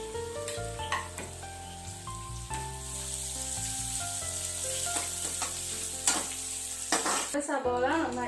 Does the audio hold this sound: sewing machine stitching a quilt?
no